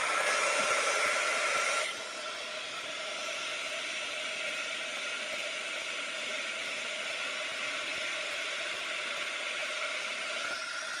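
A craft heat tool blows hot air to melt embossing powder on a gold and silver flower, a steady close whooshing hiss that drops slightly in level after a couple of seconds and then holds, with no talk.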